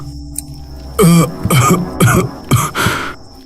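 A man coughs several times in quick, harsh bursts, preceded by a brief throat clear, close and loud against a quiet room.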